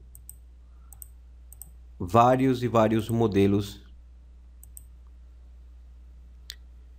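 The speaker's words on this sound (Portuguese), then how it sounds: "com apenas alguns cliques, olha só." Sparse, faint computer mouse clicks tick at intervals around a short stretch of Portuguese speech, each click brief and isolated against a quiet background hum.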